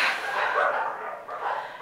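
A frightened mother dog at a dog pound growls close by in a steady, rough rumble that carries on without a break for nearly two seconds.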